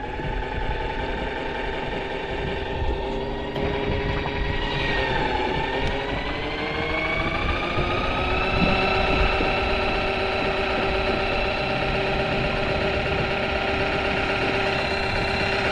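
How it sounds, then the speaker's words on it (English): A 120-pound-thrust trolling motor running on a small FeelFree Dorado V2 kayak, a loud, steady electric whine with a pitch that dips briefly and then holds level, heard alone and close. "like 120 pound trolling motor on this small little boat"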